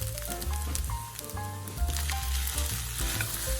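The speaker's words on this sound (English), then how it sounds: "Add the sausage." Sausage frying in a pan for miso fried rice gives a close, steady sizzle with light crackling and some stirring scrapes, and a faint tonal background runs underneath.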